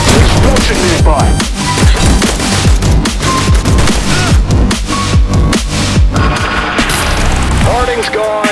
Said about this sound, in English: Explosion nearby.